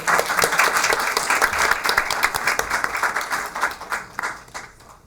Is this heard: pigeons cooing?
no